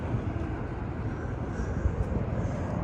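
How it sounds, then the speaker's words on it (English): A jet airplane on a flight path above an apartment passes overhead with a steady, broad roar that stays continuous and fairly loud throughout. "Here are the jets overhead."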